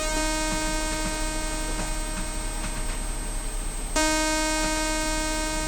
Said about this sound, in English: it sounds more like a single oscillator again, because they're both playing at the same frequency.